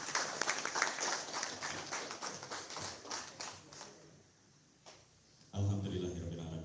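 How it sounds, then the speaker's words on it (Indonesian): Audience applause at an inauguration ceremony for the Kabupaten Bogor branch of Ikatan Da'i Muda Indonesia: dense clapping for about four seconds, thinning and fading, before a voice starts talking loudly at the end. "Kita tepuk tangan untuk semuanya."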